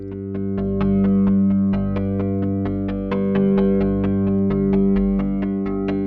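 Synthesized plucked notes from a modular synthesizer with polyphonic voices strike in a quick steady rhythm, each tone ringing on and overlapping the next in a loud electronic drone.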